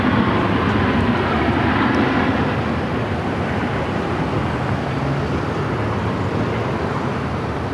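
A WestJet Boeing 737 MAX 8 arriving at Phoenix Sky Harbor produces a loud, continuous jet roar with a broad rumble that stays steady throughout, slowly easing a little toward the end.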